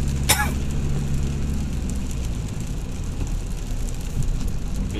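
Heavy rain falls in Pathum Thani, Thailand, a steady dense roar with a low rumble underneath and a brief higher sweep near the start.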